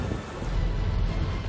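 Heavy rain driven by strong wind during a storm in Quezon City, a steady loud rush with low rumbling gusts and broadband wash throughout, no voices.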